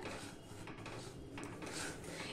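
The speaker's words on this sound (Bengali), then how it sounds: "এটা সমানে এইভাবে নেড়ে যেতে হবে খুন্তি দিয়ে, নাহলে তলায় লেগে যেতে পারে" A spatula keeps stirring a sweet gujiya sandesh mixture in a pan, making soft, continuous scraping and rubbing sounds, faint and close with no talk.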